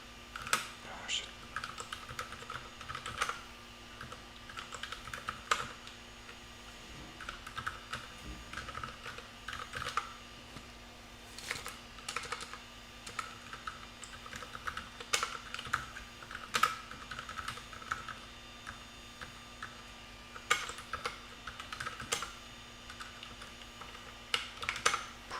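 A computer keyboard clatters under steady, irregular typing, the key clicks coming in quick bursts and pauses for the whole stretch, fairly quiet over a faint constant hum.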